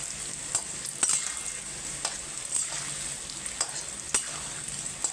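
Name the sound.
potatoes frying with Kashmiri chili powder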